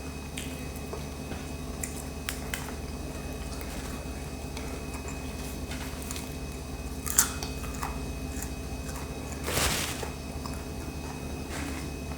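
Crispy fried wontons being bitten and chewed with sticky dipping sauce, giving a faint, steady crunch under a low background hum, with one louder crunch near the end.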